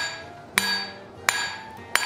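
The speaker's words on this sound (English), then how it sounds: "right where that junction is, I'm hitting with a hammer half on, half off" A hammer strikes hot steel on an anvil while forging blacksmith tongs, three sharp ringing blows spaced about two-thirds of a second apart, close and loud, each with a bright metallic ring that decays between hits.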